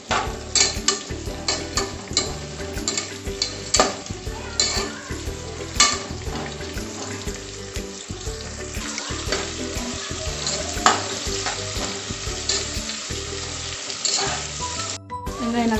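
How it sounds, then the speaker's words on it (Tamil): Sliced onions and two green chillies sautéing in a pan for a vegetable biryani give a steady close frying sizzle throughout, broken by frequent clinks and scrapes of a spoon stirring them. "வெங்காயம் நல்லா வதங்கணும்."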